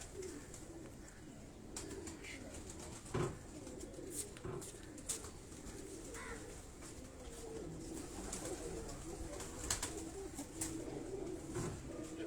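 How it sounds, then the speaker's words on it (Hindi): Soft, repeated cooing from pigeons at a Karachi breeder's loft runs under scattered clicks and rustles, fairly faint and continuous for about twelve seconds. "अब ये कबूतर भी आप देखें"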